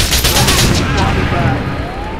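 Machine guns fire in a loud, dense, continuous burst during a Mercenaries 2 firefight, with the gunfire filling the whole moment up close.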